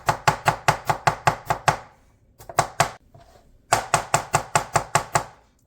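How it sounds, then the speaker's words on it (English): A knife chops carrots on a cutting board in fast, even bursts of sharp, close knocks, a run of about ten strokes, a short pause with a few scattered hits, then another rapid run. "Chop up some carrots, roughly about that big is about ideal"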